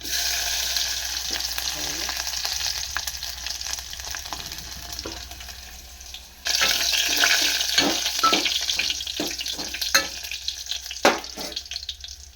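Dried chilies and crushed garlic dropped into hot oil in a pan, making a steady loud sizzle that surges when more goes in, with stirring scrapes and occasional clatters close by.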